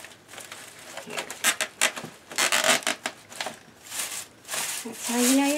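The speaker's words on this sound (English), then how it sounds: "That's how you know your zip tie's on right, when you hear the teeth." A rapid ratcheting rasp of a zip tie being pulled tight around a tomato cage, a series of quick clicking bursts that speed up and stretch into a longer buzzing pull.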